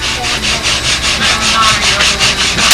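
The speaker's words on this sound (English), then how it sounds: "Just want to get the carbon dust off here from making this on a carbon part." Rhythmic back-and-forth rubbing on a wooden wing rib of a Windy Typhoon aircraft wing, wiping off carbon dust in about a dozen even strokes, close and loud, with no talk.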